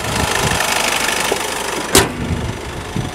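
Compact 1.5-liter Earth Dreams i-DTEC diesel engine in a Honda Jazz idles close up with a steady, slightly knocking rumble and a brief sharp click near the middle.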